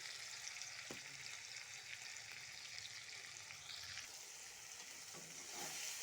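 Chopped onion and tomato frying in a pan for lau chana dal, a steady soft sizzle with occasional stirring scrapes, close and even throughout with no talk.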